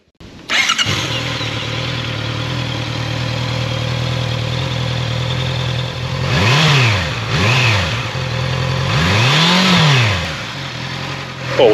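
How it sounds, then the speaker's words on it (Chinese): A Honda CB650R motorcycle's engine starts and settles into a steady, loud idle, then is revved through several sweeping throttle blips, the exhaust rising and falling close by with no talking. "我们来听听看这个排气声浪啊"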